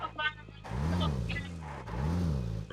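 A car driven in the video game PUBG, its engine droning and rising and falling in pitch as it revs, with a brief beep near the start and game sounds layered over the engine.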